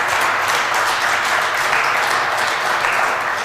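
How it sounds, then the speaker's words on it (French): Steady, dense applause from a crowd at a press conference, loud and continuous throughout with no break and no voices over it. "je pense que ça mérite une très grande main d'applaudissement aussi"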